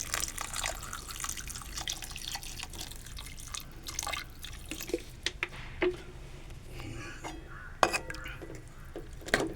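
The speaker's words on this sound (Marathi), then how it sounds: "आता पाणी टाकूया थोडस" Water is poured into a pot of potato and fresh cashew nut curry, giving trickling, splashing and squishy wet sounds with occasional clinks of a utensil against the pot, close by and moderately quiet.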